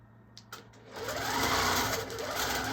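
A Handi Quilter longarm quilting machine stitching steadily with thread breaks, a dense mechanical whir that rises and grows louder after a few brief clicks, running continuously to the end.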